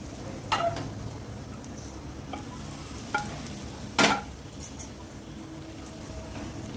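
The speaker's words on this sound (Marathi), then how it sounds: "अशी फोडणी गरम गरम बसली पाहिजे" Hot oil tempering poured over garlic, mustard powder and spices for a raw mango pickle gives a low, steady sizzling hiss, broken by a few sharp clicks and one louder crackle, with no talking.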